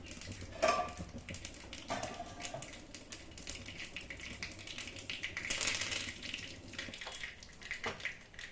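Tempering spices for manathakkali greens chutney in a pan, with close clinks and scrapes of a spoon against metal cookware and light sizzling, all running steadily without speech.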